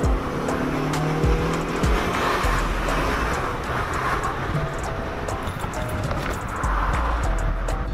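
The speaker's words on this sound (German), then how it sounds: "dieser Wagen zieht mega" An 80-horsepower car accelerates with a steady engine drone heard from inside the cabin, loud and continuous, while people talk over it.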